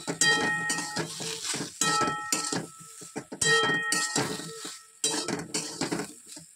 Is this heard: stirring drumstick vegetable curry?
yes